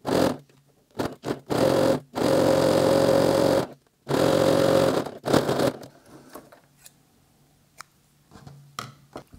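Sewing machine stitching bias binding onto a fabric mask, loud motor-driven bursts of rapid stitching in several runs with pauses, followed by quieter fabric handling.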